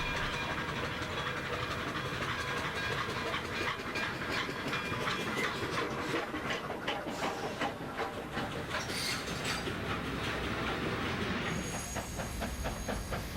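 Southern Pacific steam locomotive 4458 arrives in thick fog, a steady loud rumble of rolling train with rhythmic clickety-clack of wheels and faint squeals near the end, no voices.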